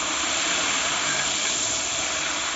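Tadka tempering sizzles loudly in a big pot on a village cooking fire, a dense, continuous hiss and crackle with no break or talk.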